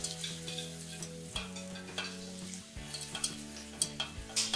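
A roux with broth added bit by bit is stirred steadily in a pot, a soft continuous bubbling and scraping with a few brief utensil knocks, close and alone, no voices.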